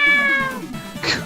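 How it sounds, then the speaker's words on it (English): A single drawn-out cat meow, close and clear, from the Xbox One game Xenon Valkyrie+, followed by a short softer squeak. "Meow."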